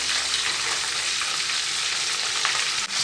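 Chicken pieces for Jama Masjid style fried chicken frying on a high flame, giving a dense, even sizzle that stays close and steady for a few seconds with no voices.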